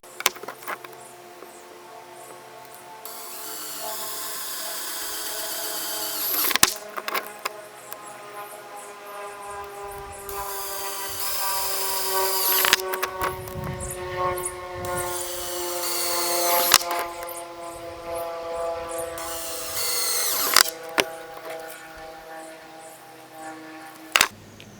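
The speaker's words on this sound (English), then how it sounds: "I'm going to drill the rest of these out" A power drill whines in repeated bursts of several seconds each, winding up and cutting through PVC pipe, with short pauses and clicks between runs.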